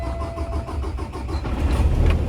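A Kenworth T680 truck with a Paccar MX 500 hp engine cranks with a rapid rhythmic chugging, then catches and rumbles louder into a low diesel idle, close by.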